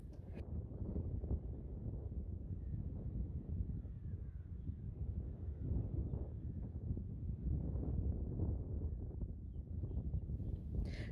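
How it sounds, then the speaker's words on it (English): Strong, gusty wind buffets a microphone outdoors at a horse-riding session, a steady low roar with rumbling gusts throughout and a few faint caws in the background, no talking. "It was very high winds this day"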